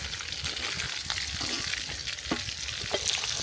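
Chicken fries for a village-style Arabian chicken kabsa, a close, continuous sizzle broken by irregular stirring scrapes and knocks in the pan, with no voices.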